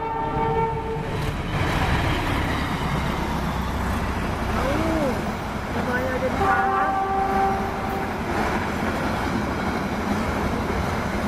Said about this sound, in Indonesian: Di sebelah kiri Bima, di sebelah kanan kereta api Jayakarta.